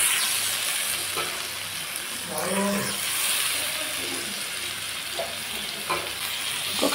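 Chopped onion and tomato sizzle and fry steadily in hot oil alongside a few stirring scrapes, a continuous close crackle with a faint voice in the background.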